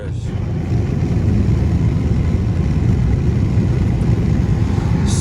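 Deep, steady rumble of a blacked-out Dodge Scat Pack's engine at night, loud and close inside the cabin, continuous without speech.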